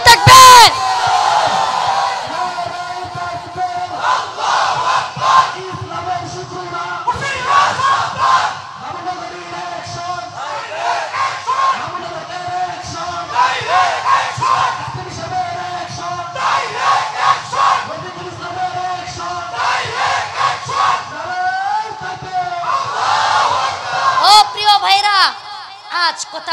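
A large crowd chants the takbir, Allahu Akbar, in loud unison, answering a leader's repeated call in roughly two-second bursts with short pauses between them, the voices rising and falling over about half a minute.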